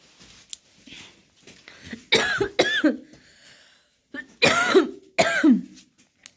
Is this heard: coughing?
yes